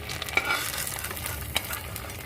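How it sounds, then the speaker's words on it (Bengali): Chhena (cottage cheese) balls fry in hot oil with a steady, dense sizzle, broken by a couple of brief clinks from a stirring utensil. "The rest is being fried."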